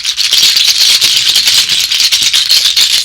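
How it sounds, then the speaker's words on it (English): Seed shakers are shaken quickly and continuously, close and loud, making a dense, hissing rattle of tiny seeds in a steady pulsing rhythm with no talking. "seed shakers"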